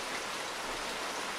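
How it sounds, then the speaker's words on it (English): A tropical downpour in a Costa Rican rainforest, heavy rain pouring as a steady, dense hiss throughout, with no voices. "There's nothing like a tropical downpour to wash your worries away"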